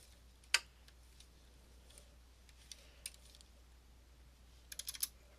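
Sparse computer keyboard typing in a quiet room: a few isolated key clicks, then a short quick burst of taps near the end, faint and alone.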